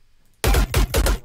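A short electronic bass sample, unprocessed before pitch mapping, bursts in as a loud, gritty low riff of three or four rapid stabs lasting under a second.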